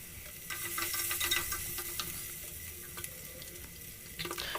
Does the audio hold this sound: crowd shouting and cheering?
no